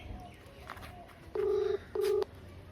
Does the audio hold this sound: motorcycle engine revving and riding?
no